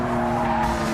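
A TVR sports car's tires squeal and skid under hard cornering, a brief loud sustained screech over engine noise.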